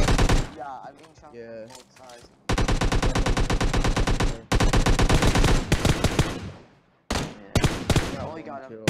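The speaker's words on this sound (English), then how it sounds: "You're getting shot from both sides." Rapid bursts of automatic gunfire rattle through a PUBG Mobile match in long sustained volleys, loud and close, while players talk over the shooting.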